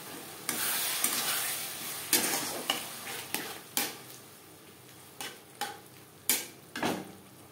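Spice paste for a Bengali katla fish head curry being stirred and fried in a pan, with a steady sizzle broken by repeated scraping strokes of the spoon against the pan, close and fairly loud, no talking.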